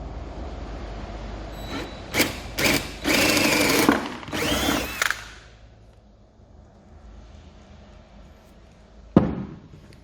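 Power drill boring dowel holes into wood, a few short bursts of whirring near the start and middle, then a pause and one brief final burst near the end, close and fairly loud with no voices.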